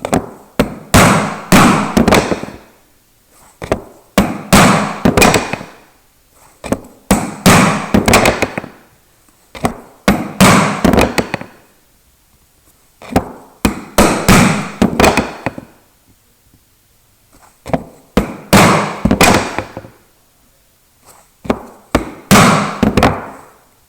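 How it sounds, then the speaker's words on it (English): Someone chops out a wood mortise for a footstool with chisel and mallet, making loud, sharp, close strikes. They come in quick bursts of several blows, each burst separated by a short pause. "we clear out the mortise in that position there"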